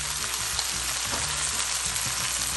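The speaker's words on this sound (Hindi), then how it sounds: "और इसे हाई फ्लेम पर ही हम तमाम सब्जियों को थोड़ा सा सॉटे करेंगे।" Vegetables sautéing over a high flame in a pan: orange, yellow and green bell pepper, cabbage, green chilies, baby spinach and mushroom with chicken. A steady, close, loud sizzle runs throughout, with faint stirring scrapes and no talk.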